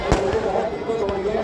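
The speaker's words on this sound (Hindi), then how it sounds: "पटाखे वगैरह" Firecrackers bursting at a crowded Dussehra celebration, two sharp cracks standing out over a constant babble of crowd noise and chatter.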